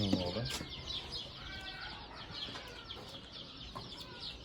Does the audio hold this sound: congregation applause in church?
no